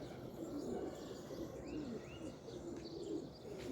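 Soft cooing and short chirps from young Uçan pigeons being released to fly, scattered calls over a faint outdoor background, with no voices.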